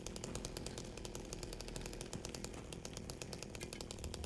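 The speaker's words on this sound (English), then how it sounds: "once I have this chainsaw in my hand" A chainsaw runs continuously in the Silent Hill 2 video game, with a steady rasping buzz at an even level and no speech.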